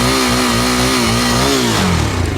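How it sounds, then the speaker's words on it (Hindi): A Yezdi Scrambler 350 motorcycle engine with a 330 cc single runs loud and close, its deep thumping note rising and falling through revs before dropping back toward idle at the end, with no talk. "एक बार इसकी भी आवाज़ सुन लेते हैं गाड़ी को स्टार्ट करके"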